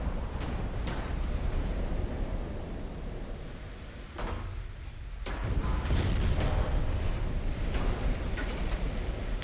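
Naval gunfire landing repeated hits on the battleship Oklahoma in Ultimate Admiral: Dreadnoughts, a dense barrage of booms and bursts rolling over a steady rumble, with a brief lull midway before heavier impacts return.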